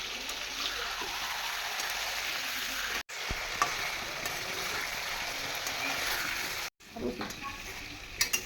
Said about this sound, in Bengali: এখন আমি সবগুলোকে একসাথে মিশিয়ে ভেজে নেব।